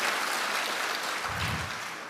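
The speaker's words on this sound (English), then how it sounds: "can we give City Barbecue a big round of applause?" Audience at an annual vitamins and minerals conference applauding a barbecue caterer, a steady, dense wash of clapping across the room that holds throughout and tapers slightly at the end.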